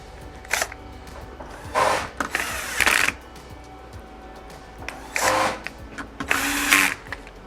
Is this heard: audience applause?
no